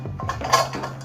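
A metal cooking pot for making tea is set down with a few quick clinks and a brighter clang in the middle, close and short, over a faint steady hum.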